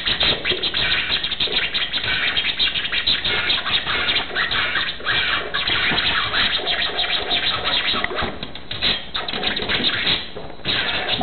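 A DJ scratches a vinyl record on a turntable in a class setting, fast back-and-forth scrapes continuing nonstop and fairly loud, slightly muffled and dull in tone, with no talk.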